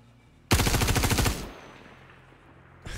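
Rapid automatic gunfire fired into water in the video game Star Citizen, a loud close burst of quick shots lasting about a second, followed by a fading splash-like wash and another burst starting at the end.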